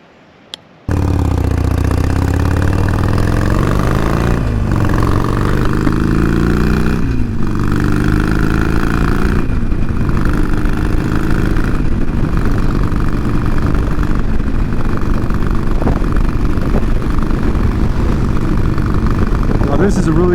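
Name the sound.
Harley-Davidson Iron 1200 Sportster motorcycle engine running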